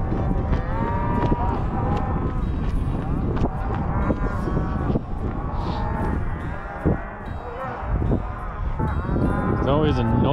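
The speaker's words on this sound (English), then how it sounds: "A noisy event when you gather cows this time of year." Loud, continuous mooing and bawling from a herd of cattle being gathered during a fall shipping roundup on a Montana ranch, overlapping calls close by with some wind noise.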